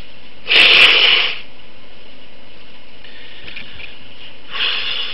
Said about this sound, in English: I'm going to have to blow my nose.